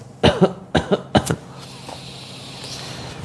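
Several sharp coughs from a group doing a morning exercise session, in quick succession, three clusters close together, then fading into low background noise.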